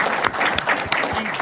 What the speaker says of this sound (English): You're supposed to clap right now